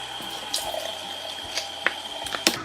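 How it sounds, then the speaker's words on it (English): Water runs steadily from a bathroom sink tap while hands splash it onto a face, a constant close hiss with several irregular wet splashes and slaps, no talking. "I'm gonna go to my sink here, and I can't hold my phone while I wash my face, so I'm gonna splash my face with water"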